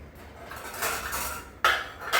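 A lid goes onto a pot of soaking dried dates (kharik) in a home kitchen. Soft metallic clatters and a sharper clink come close up, with no talking.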